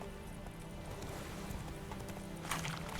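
Roach, the horse in The Witcher 3 video game, gallops with a steady run of hoofbeats under a game soundscape, with a brief brighter burst near the end.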